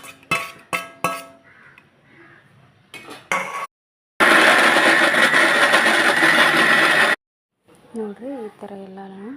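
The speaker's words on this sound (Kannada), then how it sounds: "ಜಾರಕ್ಕೆ ಹಾಕ್ಕೊಂಡು ಮಿಕ್ಸರಿಗೆ ರುಬ್ಕೋಬೇಕ್ರಿ." Mixer grinder blending tomato and onion into a fine paste: a loud, steady whirring burst of about three seconds, bracketed by clinking of the jar and lid beforehand and brief talk afterward.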